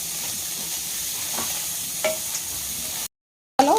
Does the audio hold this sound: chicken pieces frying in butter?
yes